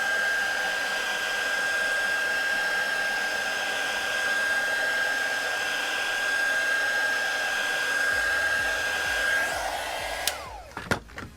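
A heat gun blows a steady, loud whirring hiss while warming adhesive on a Samsung Galaxy S10 Plus screen and frame, then switches off and winds down near the end, followed by a few faint clicks.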